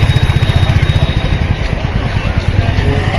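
A motorcycle engine runs close and loud inside the Maha Kumbh Mela grounds at Prayagraj, with a rapid, throbbing low pulse that stays steady throughout, while a voice is heard over it.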